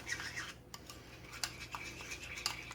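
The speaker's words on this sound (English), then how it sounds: "And you're just going to mix this up really well" A spoon scrapes and clinks steadily around a small bowl, mixing a meatloaf glaze of ketchup, mustard and brown sugar, with close, quiet stirring and rubbing sounds and occasional taps against the bowl.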